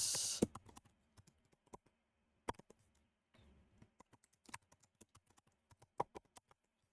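Quiet computer keyboard typing of a password, sparse individual key clicks and short bursts of taps spaced irregularly, close and alone in a silent room.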